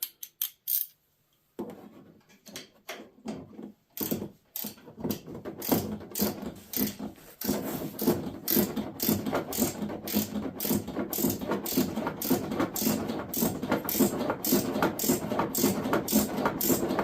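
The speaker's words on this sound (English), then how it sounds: "And a ratchet." A hand ratchet turns bolts during a leveling kit install on a 2023 Ford F-150, its quick clicking strokes coming close and steady, sparse and halting at first, then settling into a continuous run.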